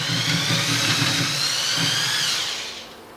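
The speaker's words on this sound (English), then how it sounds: "We're going to use a 10mm drill bit." A power drill with a 10mm bit bores through the bed of a bicycle rim, a steady high whine running throughout before easing off near the end.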